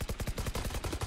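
Automatic gunfire from the Valorant video game rattles in quick, even bursts, about a dozen rapid shots in just over a second, loud and close.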